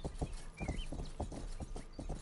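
Horse hooves in the PS5 video game Rustler make a steady, even clip-clop of trotting beats, moderately close and fairly quiet, repeating regularly throughout without talking.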